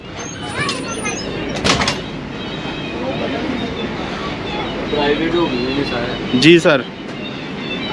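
Pakistan Railways Subak Kharam train running, heard from inside a passenger coach: a steady rumble and rattle of the moving train throughout, with louder clanks near two and six seconds and someone speaking briefly over it.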